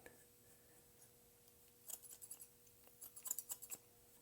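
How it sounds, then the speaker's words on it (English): Thinning shears snip through hair during a barbershop fade, a quick series of crisp, close, quiet cuts in two short bursts with no talking. "let me try 2 more snips"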